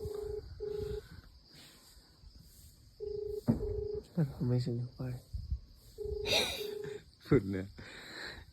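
A phone call being placed, with repeated electronic ringback tones in even on-off bursts, interrupted by bursts of nearby talk and a brief noisy rustle.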